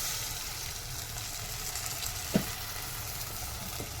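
Dried anchovies frying with softened onions and salt in a pan give a steady, close hiss of sizzling oil, with one brief utensil clack partway through and no voices.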